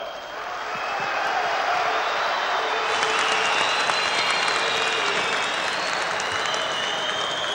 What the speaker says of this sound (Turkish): Alkışlayan elleriniz dert görmesin